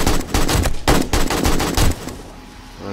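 A recoil gun fires during a horde-night fight in 7 Days to Die, a loud rapid burst of close shots in quick succession that ends abruptly about two seconds in, leaving a brief fading tail.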